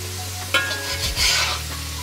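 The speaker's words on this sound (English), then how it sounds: "A lot of the time, it's kind of this scraping kind of technique, a sitting technique, and then almost folding the produce back in on the masala and the oil." Potatoes being scraped and folded through masala and hot oil in a pan: a short burst of sizzling with a sharp scrape and a low clunk midway, close up and without talk.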